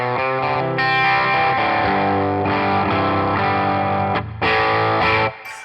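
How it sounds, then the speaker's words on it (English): Electric guitar played through a NUX Cerberus and Amp Academy on a slightly dirty amp setting, rich sustained chords with mild distortion and chorus-like shimmer, loud and continuous, alone without talk. "it's now in a slightly dirty amp"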